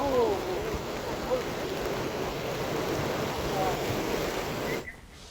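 Strong floodwater in Reasi, Jammu and Kashmir rushes as a continuous broad roar of fast-flowing water, loud and steady before cutting off abruptly near the end.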